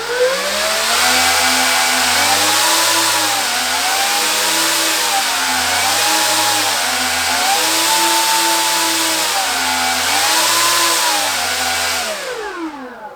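Electric motors on a Hobby King Lancaster V3 model plane run together with engine differential set, their whining pitches rising and falling in overlapping waves, loud and close for the whole stretch.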